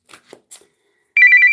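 A telephone rings with a steady electronic warble, loud and alone, coming in after a few brief faint noises and a pause.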